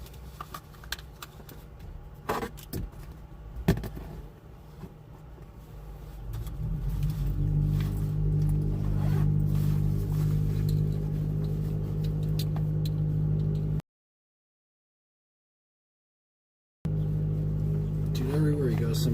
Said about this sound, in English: everywhere you go, somebody's gotta have a loud car